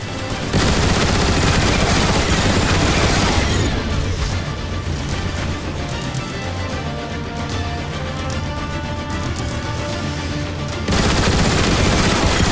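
Rapid sustained gun turret fire against Seeker jets in the Transformers game War for Cybertron, a dense, loud, continuous barrage of shots with booming impacts running through the whole stretch, no talk.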